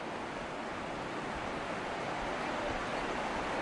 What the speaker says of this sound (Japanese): ちょっと波が出てるからね、まあ、ちっちゃい波だけど